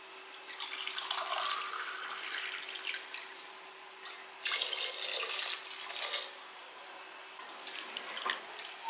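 Water is poured from a glass into a pot of channa masala curry in a home kitchen, a close, soft splashing pour in several bursts with short pauses, no voices.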